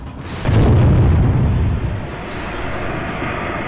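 A deep, loud boom from an explosion at a police station rolls out after a brief lead-in, then a sustained rumbling roar tails off.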